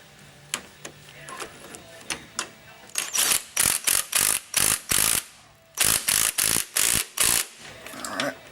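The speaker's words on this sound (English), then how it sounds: "Just gonna throw a wrench on this side here." Ratchet wrench tightening rear shock absorber bolts on a 2003 GMC Sierra 2500 HD pickup truck: a series of sharp, close clicking bursts, first sparse, then rapid regular strokes with short pauses between them.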